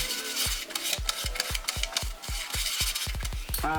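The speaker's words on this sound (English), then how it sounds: "I'm just trying to coat the wood lightly and blend it in with what's already there." A brush strokes acrylic paint onto an old wooden frame in quick repeated rasping swipes, close and steady, with a faster flurry of short strokes at the end.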